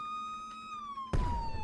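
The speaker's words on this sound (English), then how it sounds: "Is there a police car? Or is that the not ambulance, is that the UFO making that noise?" Police car siren in the Brick Rigs video game, a steady wailing tone that slowly falls in pitch, then a loud burst of noise cuts in partway while the siren keeps sounding.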